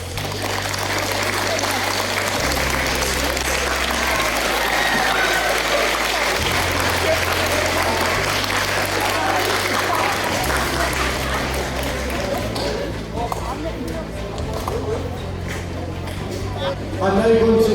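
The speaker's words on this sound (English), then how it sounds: "one by one we'll give each class a nice big round of applause for their achievements" School awards ceremony audience applauding a class as it is called up, sustained dense clapping from a large crowd that carries on steadily for a long stretch and thins slightly near the end.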